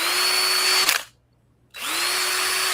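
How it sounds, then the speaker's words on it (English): A power drill bores holes in a cell phone charger holder, its loud steady whine running, cutting out to silence for almost a second, then spinning back up and continuing alone. "You're just drilling holes in your cell phone."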